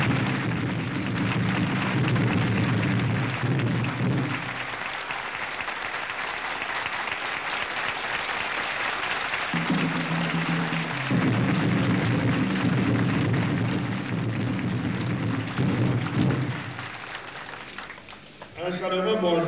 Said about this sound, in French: Applaudissons tous, debout